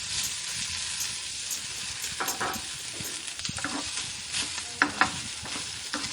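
Okra pieces frying in oil in a pan while being stirred, a continuous close hiss of sizzling broken by scraping spatula strokes and a couple of sharp knocks, no talking.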